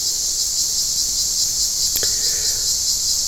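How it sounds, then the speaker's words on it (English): A cicada caught by a cat buzzes in a loud, continuous high-pitched drone, with a brief click and squeak partway through. "Chico caught himself a cicada."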